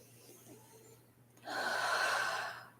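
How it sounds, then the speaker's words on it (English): A slow, deep yoga Ujjayi breath, heard close up as a soft, airy, hissing exhale, alone in a quiet room. "Now we will take 5 Ujjayi breaths."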